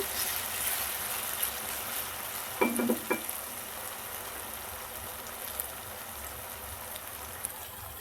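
Onions frying with ginger garlic paste give a soft, steady sizzle that stays fairly quiet throughout, with a brief cluster of light clinks near the middle and no voices.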